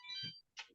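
A phone ringtone sounds during an online computer class, a bright melodic burst lasting under half a second, followed by a short chirp and a low thump.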